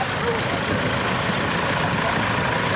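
A 1948 Minneapolis Moline UTS petrol tractor runs at a steam rally, its engine a steady, dense rumble heard throughout beneath someone speaking over a public address.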